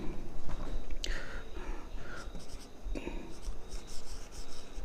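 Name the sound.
writing on a board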